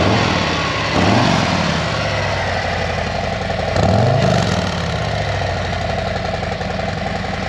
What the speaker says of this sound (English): So it still has, the original Harley sound, but it's the stock Harley sound.